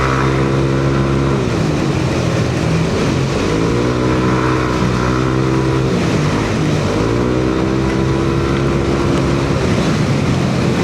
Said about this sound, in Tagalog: So soon, magpaparim up tayo kay Boss Bry gamit itong pipe.